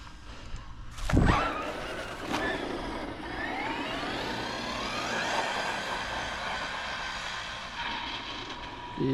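An ARRMA Mojave RC truck drives across the desert with a steady mid-pitched electric motor whine that rises in pitch as it accelerates, and a sharp knock comes near the start.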